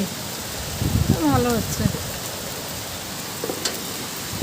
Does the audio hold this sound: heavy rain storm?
yes